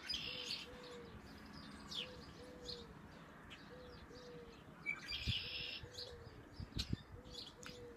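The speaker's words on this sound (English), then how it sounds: "Hear those birds?" Birds chirp and coo outdoors on a spring morning, repeated short calls and dove-like coos at moderate distance over a soft background hiss, with a few louder tweets near the end.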